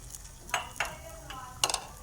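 Batter poured into a lightly oiled, greased frying pan, with short bursts of sizzling and a few light scrapes against a quiet background.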